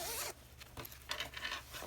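A zipper being run along a freshly sewn fabric dog walking bag, giving two or three quick rasping pulls with short pauses between them, close and clear with no talking.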